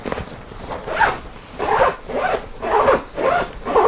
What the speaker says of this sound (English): What I wish though is they did the same with this front diagonal zipper.